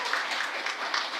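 A short burst of audience applause at an international rehabilitation forum in Lviv, many people clapping together in a steady, close, uniform patter.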